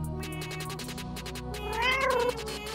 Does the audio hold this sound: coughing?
no